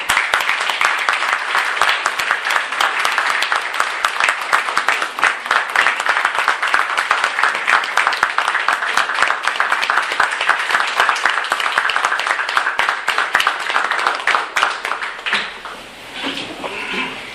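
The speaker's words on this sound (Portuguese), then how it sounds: "uma grande salva de palmas" A big round of applause from the audience at the opening of an exhibition honouring a priest, dense steady clapping that holds for most of the stretch, then thins and fades near the end.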